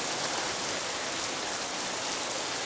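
Steady rain pours down around a rider out in the wet, a dense, even hiss of falling water that stays loud and constant throughout with no voices.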